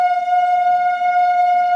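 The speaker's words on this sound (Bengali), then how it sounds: "সকালের একদম আমঘাটা লোকাল ঢুকছে কৃষ্ণনগর সিটি জংশন" An Amghata line local train arriving at Krishnanagar City Junction: a loud, steady horn blast with a pure, sustained tone that holds unbroken for the whole stretch.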